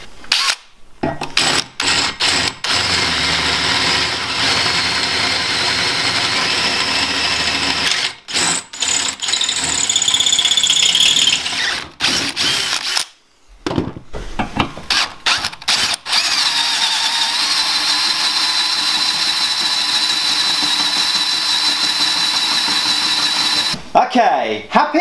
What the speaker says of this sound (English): So a hole is getting drilled and then fingers crossed, this should line up.